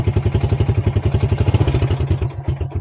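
A small motorcycle engine, an XRM110 or TM155 being warmed up in the morning, idles close by with a steady, rapid thumping pulse that stays even before loosening slightly near the end.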